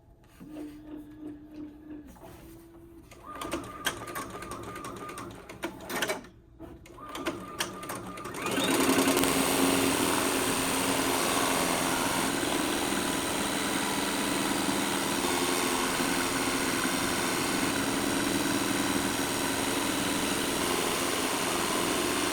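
An embroidery machine stitches a hooped hat with a steady, fast mechanical whir and needle clatter that runs on after a few short starts and stops, loud and close, with no speech.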